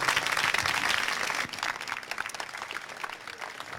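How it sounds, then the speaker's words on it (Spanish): An audience applauds a participant at an event, a dense clatter of hands that fades slightly after the first second and continues with scattered claps. "Bueno, un aplauso para él."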